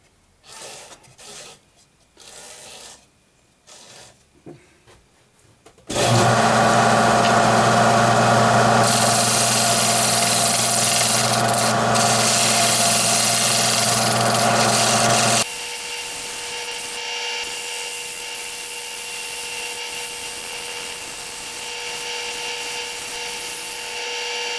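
A large wooden bowl turning on a lathe, with a few scattered knocks, then a loud, sustained humming whir of the spinning lathe and tool scraping the wood that drops to a steadier lower drone partway through.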